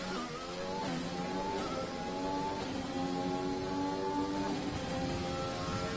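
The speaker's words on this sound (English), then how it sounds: "I just love the sound of the engine coming through the tunnel." A race car in a video game roars through the Monaco tunnel, its engine loud and steady with rising tones as it accelerates. The reverberant drone fills the whole stretch, with no talk over it.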